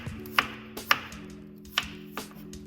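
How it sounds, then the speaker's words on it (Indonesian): A knife slicing garlic and shallot cloves on a board, about five crisp separate taps at an uneven pace, close and fairly quiet, with no talking. "Iris 3 siung bawang putih dan 1 siung bawang merah."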